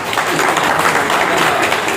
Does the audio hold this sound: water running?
no